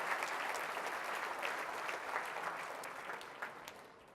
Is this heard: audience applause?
yes